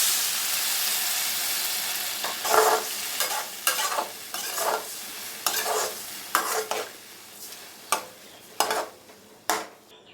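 Sautéed green chillies with tamarind water in a pan for puli milagai pickle, a soft sizzle under a series of distinct, evenly spaced stirring scrapes, close and fairly loud.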